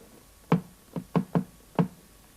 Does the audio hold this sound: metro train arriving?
no